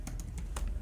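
Computer keyboard typing during a MongoDB database tutorial, a quick burst of five or six distinct key taps at an uneven rhythm, close and fairly quiet, with no talking.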